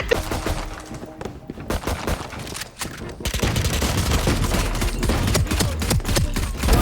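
Gunfire sound effect of rapid, dense bursts of shots, loud and close, building into a sustained barrage with brief gaps at the start.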